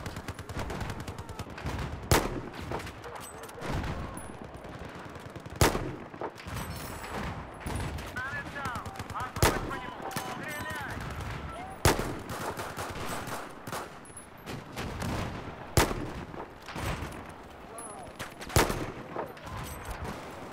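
Sniper rifle shots in the Battlefield 4 video game, map Operation Locker, sounding as sharp isolated cracks spaced a few seconds apart over busy game ambience and background battle noise.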